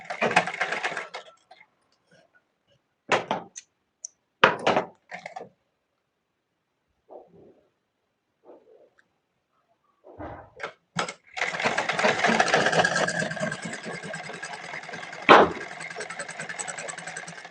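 A sewing machine stitches a blouse neckline in short separate bursts with pauses between them, then runs in a longer continuous whirring stretch toward the end.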